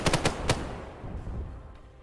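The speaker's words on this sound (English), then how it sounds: "Be advised, APC is firing." An armored personnel carrier in Arma 3 fires a quick burst of four or five heavy gunshots, each one loud and sharp, followed by a long rolling echo that fades slowly.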